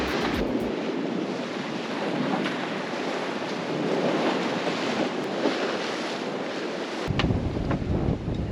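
Strong wind roars across the microphone along with waves and surf while a reefed sailboat reaches through 22 knots of wind near Current Cut, a steady loud rush with no talk.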